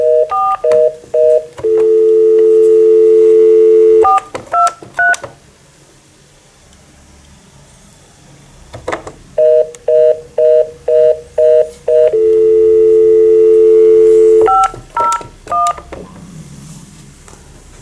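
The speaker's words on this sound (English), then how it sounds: "This is how you dial." DTMF dialing tones on a Grandstream GXP1615 IP phone, loud and close: bursts of short keypad beeps followed by a long steady tone, then a quiet gap before the same beep-and-tone sequence repeats.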